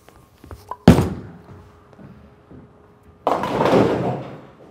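A bowling ball with a blue non-urethane cover, thrown as a first shot, strikes the pins in a sudden loud crash near the start, followed by a second sustained rumbling clatter later, with no talking.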